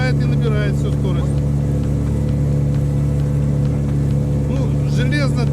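A loud, steady motorboat engine drones at speed while someone talks over it, the roar constant throughout.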